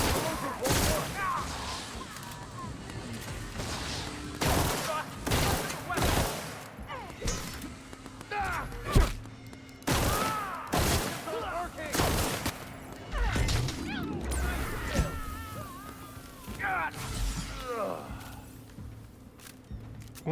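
A gun fires repeatedly in The Outer Worlds, sharp close shots coming in irregular bursts, mixed with thuds and footsteps, while voices talk intermittently over the action.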